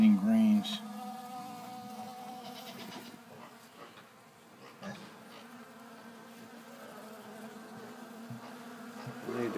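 Bees buzz steadily around scratch grain and corn set out on a farm, a close, continuous drone with a brief louder burst at the start, heard alone without talk.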